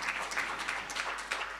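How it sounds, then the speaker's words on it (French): Audience applause at an artificial intelligence forum on adult education, a steady patter of many hands clapping at moderate distance, continuous through the whole stretch with no voices over it. "Je pense qu'on peut vous applaudir."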